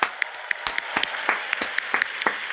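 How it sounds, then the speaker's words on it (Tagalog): A church congregation at a Feast of the Black Nazarene celebration claps their hands in praise, giving scattered, uneven claps at a moderate distance with no voices over them. "itaas ang kamay at pumalakpak ng mas malakas."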